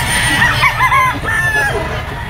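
Stag roosters crow loudly at a gamefowl market, with several overlapping drawn-out calls close by over a busy crowd murmur.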